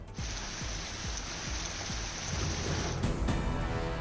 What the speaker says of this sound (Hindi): पुणे में भारी बारिश का दौर जारी